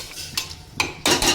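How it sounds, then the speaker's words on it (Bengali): A spoon scraping and clinking against a pressure cooker pot while stirring stew, in three short bursts of metallic scraping, the last one louder and longer. "তো এটাকে খুব ভালো করে একটু নেড়ে দিই"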